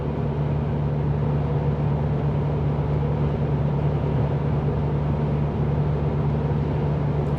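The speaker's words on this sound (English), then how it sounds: "So the wind is hitting the car pretty good" Inside a moving car on a highway road trip, strong crosswind roars as a constant broadband rush against the body, over a steady low engine and road hum. No voices.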